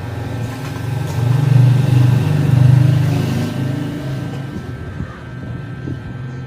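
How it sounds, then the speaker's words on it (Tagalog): The pump of a clogged fog machine runs under test, giving a loud, close mechanical hum that swells and holds for a few seconds, then eases off to a lower drone. "check natin kung gumagana yung pump"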